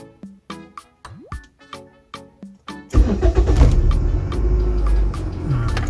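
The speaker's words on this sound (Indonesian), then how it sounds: "Saya nyalakan mesinnya." Steady rhythmic clicking fills the first few seconds, then a passenger car with its check-engine light on cranks and starts, its engine settling into a close, steady idle.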